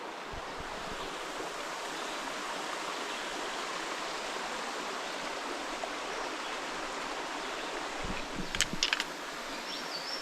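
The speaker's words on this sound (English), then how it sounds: "Found the river." A river on the Ouachita Trail rushes in a steady, broad wash of flowing water, with a few faint knocks and a brief high chirp near the end.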